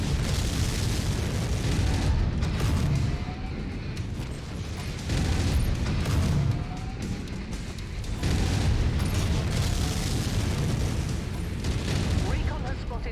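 Missiles slam into a battered mech in a video game, a dense, rumbling run of booming blasts in repeated waves, loud and sustained, with a voice talking underneath.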